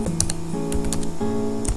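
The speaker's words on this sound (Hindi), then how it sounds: "लाने के लिए क्या करेंगे, कीबोर्ड का टैब बटन प्रेस करेंगे, टैब।" Computer keyboard keys are pressed while a bill book is built in MS Word, giving several sharp clicks over a steady tonal background, with no speech.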